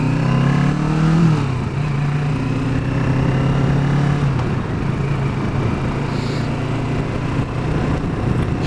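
A motorcycle engine runs loud and close while riding, with a short rev near the start before settling into a steady droning note.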